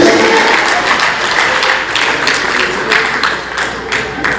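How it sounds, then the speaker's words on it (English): Audience clapping for themselves at a gathering, dense sustained applause with distinct close hand claps on top, loud and continuous, with faint cheering voices mixed in. "Please clap for yourselves"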